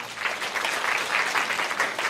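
Church congregation clapping as a sustained burst of applause, even and fairly close, carrying on throughout with no speech over it.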